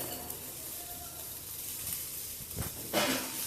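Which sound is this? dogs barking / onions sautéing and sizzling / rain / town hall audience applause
onions sautéing and sizzling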